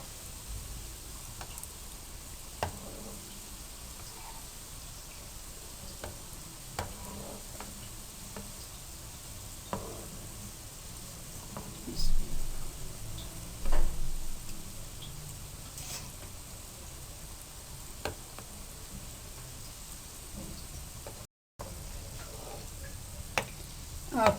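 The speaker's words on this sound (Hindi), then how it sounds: "आपने इनको हल्की आंच पे फ्राई करना है।" Anarsa dough balls fry gently in oil on low heat, a faint, continuous soft sizzle with scattered small ticks and pops, and a slightly louder bubbling patch midway.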